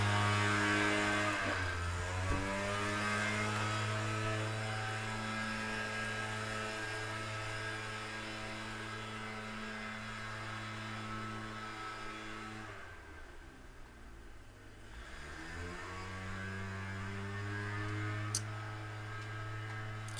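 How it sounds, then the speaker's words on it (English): Steady engine drone of a leaf blower running outdoors, heard from indoors at a distance as a continuous hum with a brief dip in pitch partway through. "He's blowing leaves."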